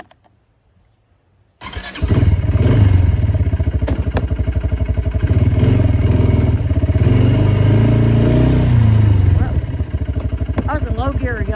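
A vehicle engine starts after a brief quiet moment, then runs loud and close in low gear with a steady, rough chugging drone and some clatter.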